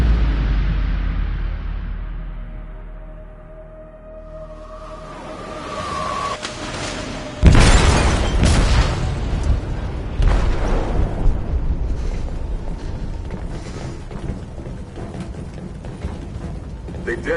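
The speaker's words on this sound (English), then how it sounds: "They detonated an explosive in the hold." An explosive detonating in a ship's hold in a video game: a sudden heavy boom after a quieter building rumble, followed by prolonged crashing, rumbling and metallic debris noise.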